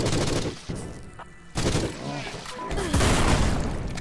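Loud bursts of gunfire and explosive booms from the game Forgive Me Father, dense and chaotic, coming in waves across the clip.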